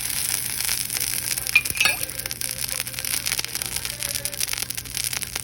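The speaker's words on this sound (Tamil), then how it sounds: "இதை சுற்றி நாம் எண்ணெய் விடலாம்." Oil poured around an onion adai on a hot pan sizzles and crackles steadily, with a bright clink from the pan partway through; no talking.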